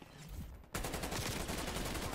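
Rapid automatic gunfire in Black Ops: Cold War, a loud dense stream of shots erupting abruptly after a quieter moment and continuing steadily to the end.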